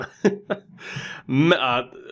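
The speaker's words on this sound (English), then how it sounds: "Can't clear my throat." Someone makes a few short, rough throat-clearing grunts, followed by a longer strained vocal rasp.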